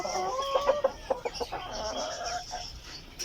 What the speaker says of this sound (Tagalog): nasa 1 year old mahigit na po itong Silver Sea Bright Bantam ko na roster